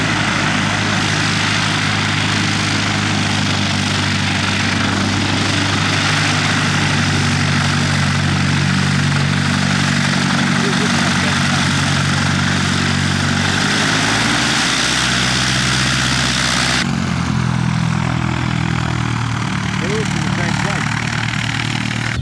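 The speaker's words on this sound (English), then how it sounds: "Here we go, here's another plane." A loud propeller plane engine drones steadily nearby, its tone shifting as it passes, with some talking under the noise.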